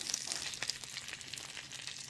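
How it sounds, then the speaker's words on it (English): Cheese melting in a pan over very low heat, giving a steady soft sizzle dotted with small crackling pops, moderately quiet and heard on its own. "got the fire on extra low and the cheese is popping on as I pop"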